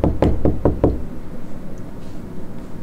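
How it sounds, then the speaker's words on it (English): Five quick, firm knocks on a bedroom door in an even rhythm, close and loud, followed by quiet room tone. "Always knock first."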